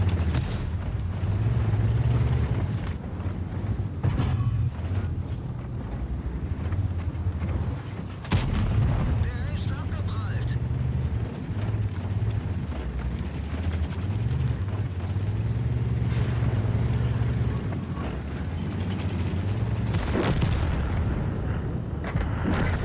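A German E 75 TS tank in a battlefield video game fires repeated heavy booming shots, each a loud blast with a rolling low rumble, spaced several seconds apart over a constant deep engine drone.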